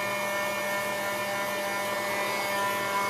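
A handheld heat tool blows steadily to dry decoupage mixed-media craft work, a continuous close whirring hiss with a faint tonal hum, alone without talk.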